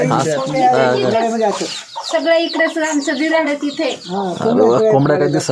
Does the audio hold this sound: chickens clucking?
yes